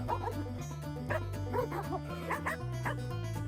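A farm guard dog in Albania barking repeatedly at close range, a quick series of yips and barks over a steady low background hum.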